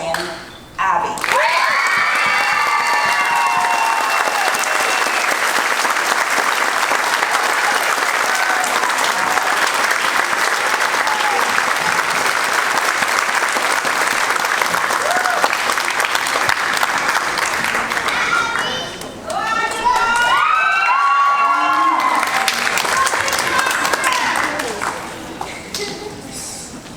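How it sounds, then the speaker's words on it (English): An audience at a grade 8 graduation ceremony applauds the valedictorian with loud, sustained clapping that fills the room for about twenty seconds, dips briefly, then swells again. "Please put your hands together and congratulate this year's valedictorian, Abby."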